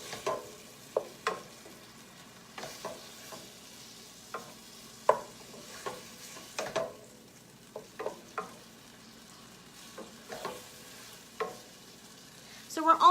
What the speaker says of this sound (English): We're just waiting for our meat to brown up.